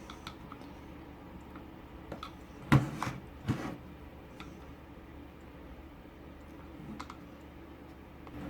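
Plastic clicks and creaks as the white inner mechanism of a Citroen C1 / Peugeot 107 / Toyota Aygo speedometer is gently levered up, a few sharp close snaps clustered near the middle over faint handling noise.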